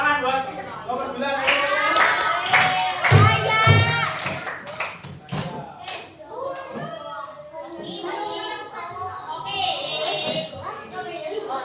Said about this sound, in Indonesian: tepuk tangan buat nomor 9